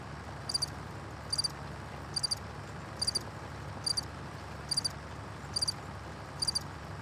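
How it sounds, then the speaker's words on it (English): A played recording of crickets chirping: regular short trilling bursts, about eight evenly spaced over several seconds, faint and thin above a low steady background hum. "I'm going to play crickets real quick and tell me if this is better."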